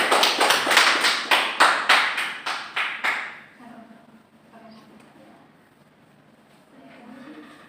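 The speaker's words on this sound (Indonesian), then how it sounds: "Beri aplaus untuk kelompok." A small classroom group gets applause: about ten sharp, evenly spaced claps, each in unison, then quiet room sound with faint voices.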